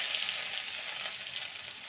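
Ginger and green chili paste hits hot oil after five-spice tempering, a dense, bright, steady sizzle lasting about two seconds, close and moderately quiet with no voices.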